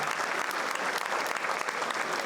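A school assembly crowd claps steadily and enthusiastically, a dense wash of applause that holds at an even level throughout without any speech on top.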